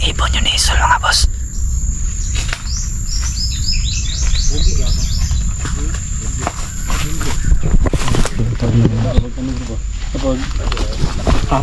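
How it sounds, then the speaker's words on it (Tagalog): Outdoors, a few birds give quick, high chirps and short song phrases over a steady background of wind and ambient noise, with people talking nearby. "Mukhang ibon yun ni Isul mga boss."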